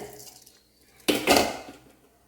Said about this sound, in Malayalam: അപ്പോൾ അരി ഇട്ടു